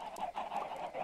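Chickens cluck in the Minecraft video game, with short repeated clucks in quick succession across one brief second, clear and close.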